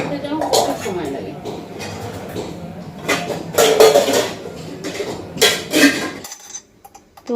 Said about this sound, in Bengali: তো ওকে ভাতটা বেড়ে দিচ্ছি